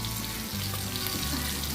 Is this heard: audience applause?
no